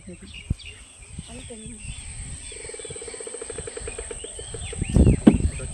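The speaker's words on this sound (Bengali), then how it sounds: "পাখি কিন্তু ঠোঁট দিয়ে ওই আওয়াজটা করছে" Birds call in the Sundarbans forest, including a rapid rattling knock made with the beak, amid insect chirps and other distant calls, with a louder burst near the end.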